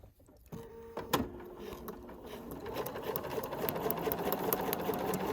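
A sewing machine stitches a quilt block seam, starting after a quiet moment with a click and then running in a fast, steady rattling whir at close range.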